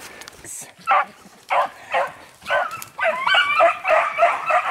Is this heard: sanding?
no